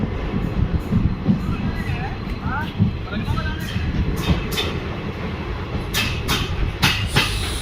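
A train rumbles steadily along the rails through Kachiguda railway station with clickety-clack and squealing wheels, heard from on board; a few sharp clanks near the end.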